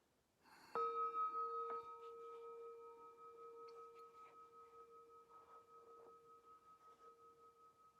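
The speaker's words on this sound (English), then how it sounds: "let's start with the classic bell" A classic meditation bell is struck once, its clear tone blooming loud and then ringing out in a long, slowly fading sustain with gentle beating; faint room sounds sit beneath.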